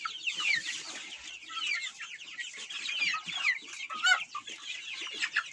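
Araucana and Tsarskoye Selo chickens, young birds of several breeds, cluck and chirp continuously in a pen, a busy overlapping flock sound at close range with no talking.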